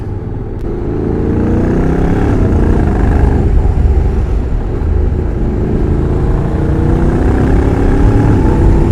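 Honda NC750X DCT motorcycle riding in standard mode, a steady loud engine drone with rising and falling revs as the dual-clutch gearbox shifts, continuous throughout with no talk.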